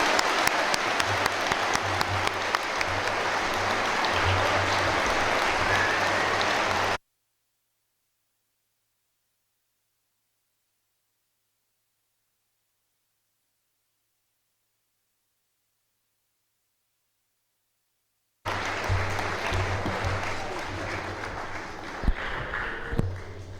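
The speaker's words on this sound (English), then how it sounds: "Let's give them a nice round of applause." An audience at a college-hosted district attorney candidates' debate claps steadily, a dense run of applause that cuts out midway and resumes, fading toward the end.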